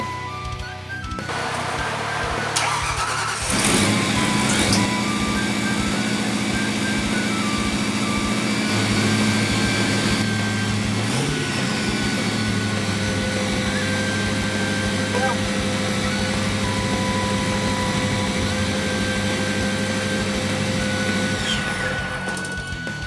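FST 750 engine cranked and running, a brief cranking burst followed by a steady, loud droning run with whining tonal components, close by for the full stretch.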